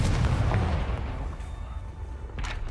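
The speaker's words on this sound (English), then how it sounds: "Confringo!" A Confringo fire spell explodes in the video game Hogwarts Legacy, a loud booming blast with a rumbling tail that fades over a few seconds, followed by a softer crackling burst near the end.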